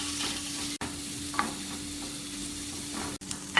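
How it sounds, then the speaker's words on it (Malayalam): Green chili, garlic and ginger sautéing in hot ghee while being stirred, giving a steady close sizzle with a few soft utensil scrapes and clicks, no voices. "ഇതിന് കുറച്ച് സമയം ഇളക്കി വഴറ്റാം."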